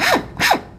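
Drill briefly starting a hole in wood, two quick short zips close by, each a rising then falling rasping whir, with a short gap between them.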